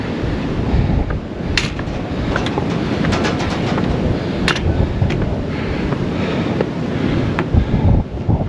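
Strong wind batters a hilltop tower in cold Iowa winter, a loud, continuous rumbling buffet across the microphone with gusty swells and occasional faint clicks and taps.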